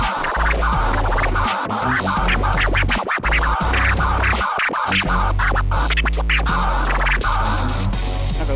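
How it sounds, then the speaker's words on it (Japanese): DJ scratching done by finger on the jog wheel of a Pioneer DDJ-1000 controller: loud, rapid back-and-forth scratch sweeps chopping over a music track, heard near and continuous with no talk. "ここにこう指をこうやってスクラッチできちゃったりします。"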